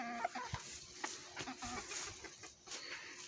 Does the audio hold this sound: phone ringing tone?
no